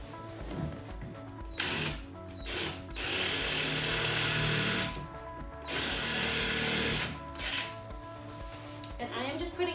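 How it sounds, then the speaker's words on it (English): A power drill whirs in several bursts of a few seconds each, drilling a starter hole into wood, with pauses between and some handling noise. "So let's drill it in."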